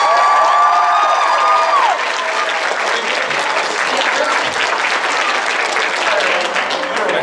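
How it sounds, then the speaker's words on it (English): Audience at an anime festival costume contest in Lafayette, Louisiana claps and cheers loudly, a thick continuous roar of hands with a few whoops and a brief high whistle near the start. "Can we get a round of applause for everybody?"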